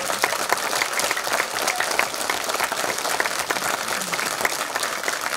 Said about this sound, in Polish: Poproszę jeszcze raz, wiem, o brawa dla nich.